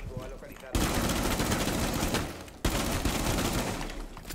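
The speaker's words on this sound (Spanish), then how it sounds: "A ver si Rexa no muere ahora de un disparo en la boca." Gunfire from the tactical shooter video game Rainbow Six Siege rattles in two long, loud automatic bursts with a brief gap between them, close and dense, while a player's voice can be heard under the shots.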